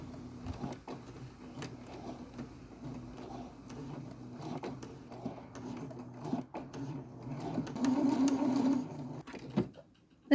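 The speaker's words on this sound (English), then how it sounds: "I am also going to top stitch the shoulder seams" A sewing machine runs in quiet, steady stretches while top-stitching the shoulder seams of a garment in slippery fabric, growing a little louder toward the end, with no talking.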